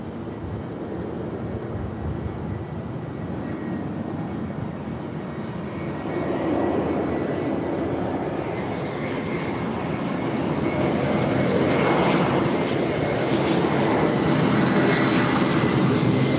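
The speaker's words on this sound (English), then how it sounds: "Air France Flight 66 coming in from Paris" Air France Flight 66 from Paris arriving at LAX, its jet engines a sustained, loud roar that swells and grows heavier as the airliner draws nearer, unbroken for the whole stretch with no voices.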